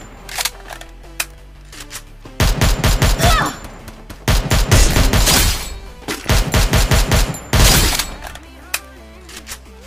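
Loud automatic gunfire in Garena Free Fire, several rapid bursts of close shots separated by short pauses, with quieter game sounds between them.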